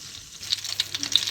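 Homemade cordons bleus cook gently in a pan over medium heat, giving a soft, close, irregular crackle and hiss with no talk.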